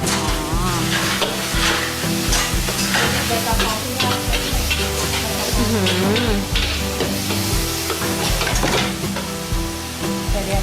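Red curry paste and seafood stir-fry in a hot pan at a seafood restaurant, producing a continuous loud sizzle with scraping stirs, while music plays in the background.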